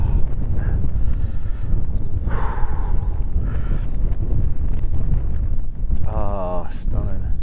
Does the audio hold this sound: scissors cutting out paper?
no